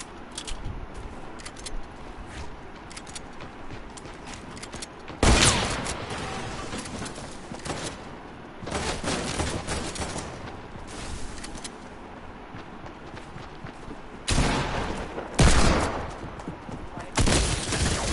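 Bursts of gunfire and shotgun blasts ring out in the video game Fortnite, some near and loud, others more distant, arriving in irregular clusters over low background game noise.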